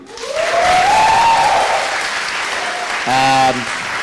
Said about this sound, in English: please clap your hands also for our amazing jury